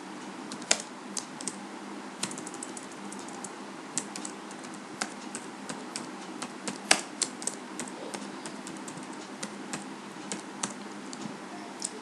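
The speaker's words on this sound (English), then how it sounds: "While I type any characters inside this text box, it just displays the password character." Typing on a computer keyboard into a text box on a Windows form, irregular crisp key clicks close up, with a few sharper louder strikes and no talking.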